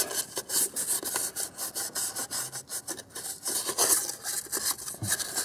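Hand sanding of a hose sealing surface on a 2001 QX4's intake cooling system with 1500 grit sandpaper: quick, rhythmic scratchy rubbing strokes, close and fairly soft, with no talk.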